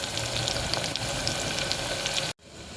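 Mushroom masala sautéing in a pan until golden brown, a dense continuous sizzle with small pops, cutting off abruptly near the end before a quieter hiss resumes.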